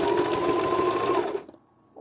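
A sewing machine stitching patchwork fabric for a thrifted top runs at a steady, close, loud whir for over a second, then stops abruptly, leaving near quiet.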